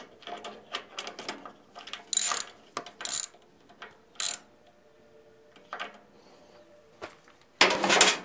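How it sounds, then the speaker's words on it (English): A bolt on a riding mower is tightened down with a ratchet and torx bits, giving repeated close clicking ratchet strokes in short bursts with pauses and a louder handling rattle at the end. "Using the torque bits, torque this down."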